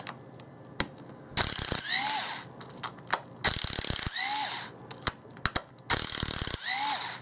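A small Makita cordless driver works screws out of a clamshell power drill housing, with repeated whirring ratcheting bursts of a second or so, separated by short clicks and handling knocks, close and loud.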